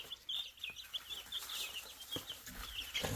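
Baby chicks settling in for their first night in an outdoor coop, giving faint, high repeated peeps and chirps with soft rustling, heard at a distance in a quiet setting.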